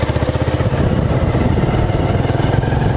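A motorcycle rides along a winding, potholed village road near Padrauna, Kushinagar, its engine droning steadily and loud with a rhythmic low chug throughout, no voices.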